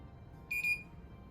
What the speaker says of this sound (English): It also makes a lot of beeping noises.